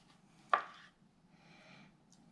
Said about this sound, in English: We're going to go ahead and cut the top.